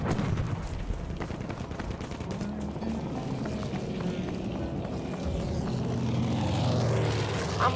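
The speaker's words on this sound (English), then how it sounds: "well, the planes are sure flying around here." Propeller warplanes in Battlefield V drone loudly overhead, a continuous engine roar that swells toward the end, with scattered game gunfire underneath.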